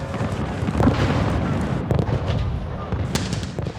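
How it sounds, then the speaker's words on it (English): Artillery fires in a Napoleonic battle at Smolensk, heard as dense, rumbling booms and crackling blasts layered over one another in a continuous loud barrage. "The first artillery is fired at 6 a.m."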